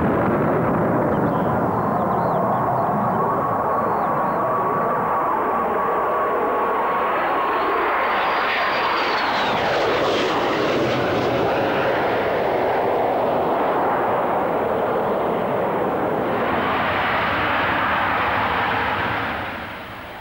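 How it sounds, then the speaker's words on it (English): A Harrier jet's engine roars loud and continuous throughout, with a rising whine and swelling rumble as the aircraft passes close, fading only slightly at the end. "And the new Harriers are also far easier to fly, with an up-to-date cockpit and advanced avionics and flight control."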